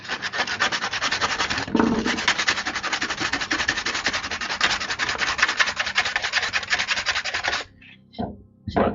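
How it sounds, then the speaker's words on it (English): A stack of wooden penguin cutouts is sanded with steady, rapid back-and-forth rubbing strokes that run continuously. The sanding stops near the end, leaving a few brief scrapes. "We'll work on sanding one."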